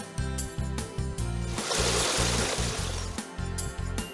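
Cartoon bathtub filling with water: a rushing, splashy pour swells up in the middle, set against a bouncy children's music loop.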